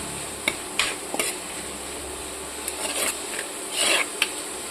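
Drumstick (moringa) leaves sautéing in a pan, a steady soft sizzle with a few sharp scrapes and clinks of stirring scattered through, close and alone with no talk.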